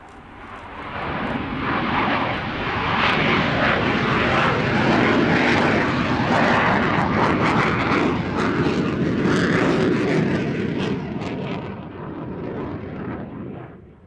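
A military aircraft roars past at an air show while flying a go-around, with a loud, sustained jet rumble that swells to a peak and then slowly fades.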